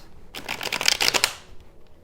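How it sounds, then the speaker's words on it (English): A rapid riffle shuffle of playing cards, a quick burst of crisp fluttering clicks lasting about a second, close and fairly loud, then quiet. "let me do one or two more shuffles"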